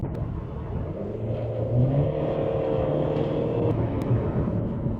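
A small 1.6-litre Saab engine hums at higher revs while driving, a steady buzzy drone heard from inside the car with road noise beneath it and a gradual rise in pitch.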